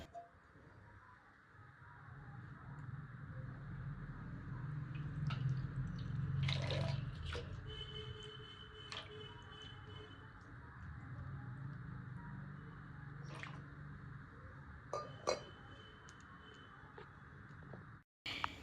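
Water is poured and splashes while bathing Sri Krishna deity idols at a home shrine. A soft continuous trickle with occasional drips and splashes, fairly quiet and close, swelling midway, with faint birdsong in the background.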